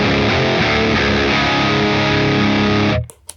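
An electric guitar played through a Wild Throw distortion pedal gives a loud, dense, saturated chordal roar held steadily for about three seconds before cutting off into a few brief faint noises.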